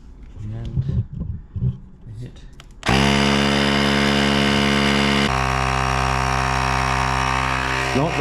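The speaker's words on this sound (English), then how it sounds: "Not the fastest compressor in the world" A portable air compressor inflates a flat car tyre with a loud, steady motorised drone and buzzing that starts abruptly after someone speaks, then runs on alone with a slight shift midway.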